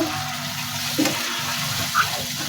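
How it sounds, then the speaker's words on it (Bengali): Water poured into spice paste frying in oil in a pan for a village-style pangas fish curry, a steady hissing sizzle with a louder splash and bubbling burst near the middle, close and continuous throughout. "এখন একটু পানি দিচ্ছি একটু পানি দিয়ে কষাই নেব"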